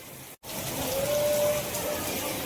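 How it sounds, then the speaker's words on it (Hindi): Heavy rain falls in a steady, dense hiss that fills the whole moment, broken only by a brief dropout near the start, with a faint tone running under the downpour. "बारिश आ रही है, कितनी तेज? बहुत तेज"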